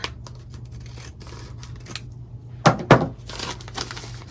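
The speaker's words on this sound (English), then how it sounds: "I can cut my threads, then just pink across the top." Pinking shears cut across the top of a stitched paper pouch, giving two crisp, close snips in quick succession. Fainter rustling and handling noises come before and after.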